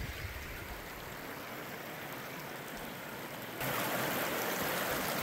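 Fast-flowing stream water rushing steadily at a prospecting dig site, a continuous broadband roar that swells louder near the end, with no voices.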